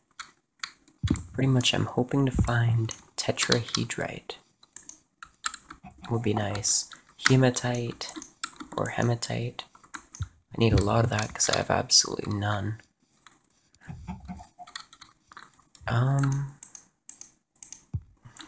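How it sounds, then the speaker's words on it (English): Steady keyboard typing clatters close by throughout, with a person talking over it in bursts. "As for this keyboard, if you can hear it in the background"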